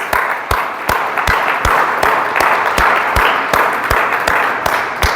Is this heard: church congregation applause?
yes